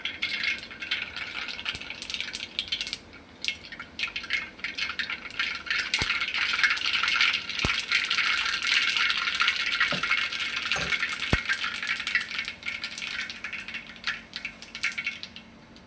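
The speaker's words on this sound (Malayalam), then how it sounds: "അല്പം കടുക് ഇടുക." Mustard seeds crackle and splutter in hot oil in a pan, a dense steady hiss with scattered sharp pops and a few louder snaps, close by with no talking.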